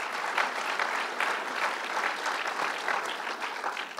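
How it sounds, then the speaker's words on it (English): A round of applause from an audience of supervisors, officials and business and labor guests at a Long Island event with the governor: steady, dense clapping, fairly distant, filling the whole moment without a break. "So give everybody a round of applause."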